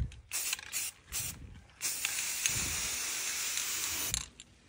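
Spray paint hisses from an aerosol can in short bursts, then a long steady spray as a light coat goes onto a garden item being refreshed outdoors, loud and close with no talking.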